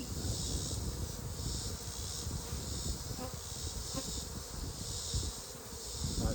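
Honey bees swarm around an open hive during a winter colony reduction, their dense, steady buzzing humming continuously with brief nearby wingbeats passing close, and no one speaking.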